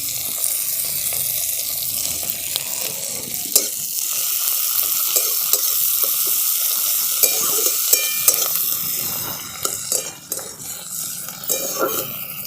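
Chopped tomato and four slit green chillies sizzle with fried onions in a pan for a fish roe curry, a constant frying hiss broken by stirring clinks and scrapes.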